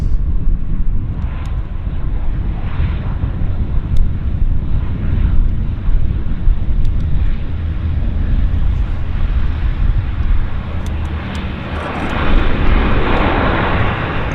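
Airplane arriving on the runway at Vancouver International Airport (YVR), a broad, continuous engine roar and rushing noise that holds steady with a slight swell near the end, with wind on the microphone.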